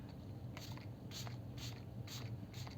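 Five quick hissing bursts of makeup setting spray in a steady rhythm, close up over a low, constant background hum.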